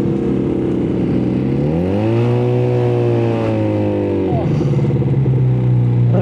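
A custom Honda Spacy 220cc scooter converted to a two-cylinder engine revs loudly up close, its deep engine tone climbing and holding high before dropping back to a rumbling idle.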